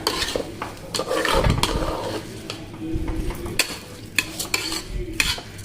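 Rice is stirred into spiced masala in a pan over a medium gas flame, with soft frying sizzle under repeated scraping strokes and occasional clinks of the spoon against the pan, close and unvoiced.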